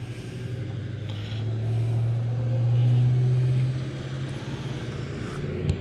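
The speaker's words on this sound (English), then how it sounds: "we all got to see the school bus driving away" A school bus drives away outside, its engine rumble rising and swelling before fading, heard from a moderate distance with faint background noise and no talking.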